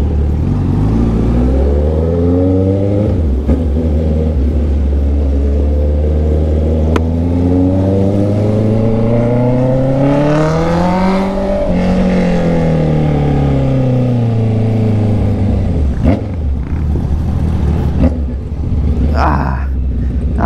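A Honda CB650R motorcycle engine hums steadily under a rider's helmet, rising and falling in pitch as it accelerates and shifts through gears, with constant wind roar throughout.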